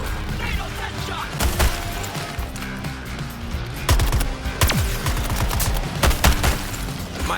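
Rapid gunfire bursts and impacts from the video game Suicide Squad: Kill the Justice League, loud and repeated over several seconds, with in-game voice lines over the shooting.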